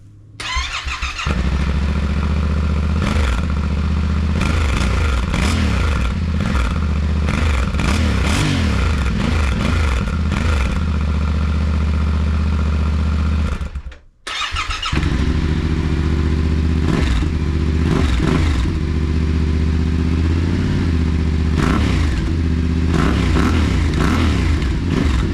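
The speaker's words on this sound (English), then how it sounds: "let's compare the old exhaust with the new one" Motorcycle engine idling and revving through the old exhaust and then a new aftermarket one, loud and close, repeated throttle blips with a short cutoff in the middle before the second exhaust's deeper, bassier run.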